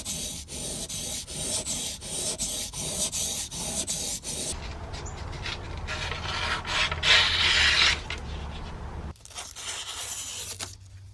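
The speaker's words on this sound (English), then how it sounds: "how I learned to sharpen my chisels and my pointer blades" A chisel is sharpened on a whetstone with steady, rhythmic back-and-forth rasping strokes, close and fairly loud, followed by a stretch of rougher scraping and handling noise with no talking.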